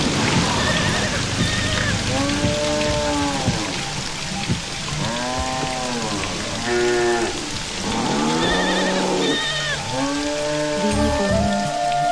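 Steady rain patters in the background while people talk over it, their voices dominating most of the stretch.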